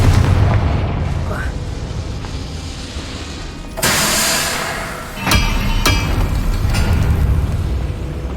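A Confringo blasting spell bursts twice in Hogwarts Legacy, loud crackling blasts rising over a rumbling game backdrop.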